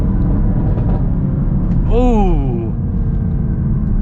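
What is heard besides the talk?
Chevy Camaro SS 1LE exhaust on upshifts and downshifts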